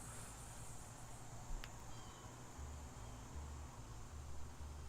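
Steady, dense insect drone from cicadas in a New York garden, a constant hiss-like buzz that never lets up, with low rumble underneath and no speech.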